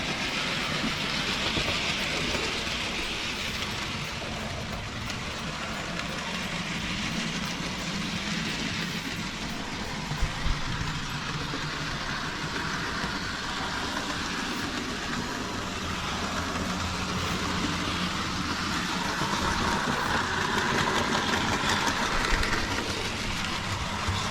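A Hornby Jinty model locomotive runs steadily around a model railway layout, giving a continuous close whirring rumble with faint rail clatter and no talking.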